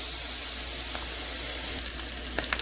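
Steak, onions and mushrooms for a Philly cheesesteak sizzle steadily in a hot pan, a close, continuous frying hiss with a few small pops and crackles toward the end.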